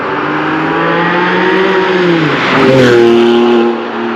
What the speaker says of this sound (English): I noticed how great the burble sound as it went by